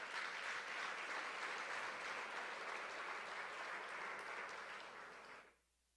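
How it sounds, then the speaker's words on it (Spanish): Church congregation applauding during a sermon, a thick, sustained wash of clapping from many people that fades and cuts off sharply near the end. "Dale un aplauso a Dios."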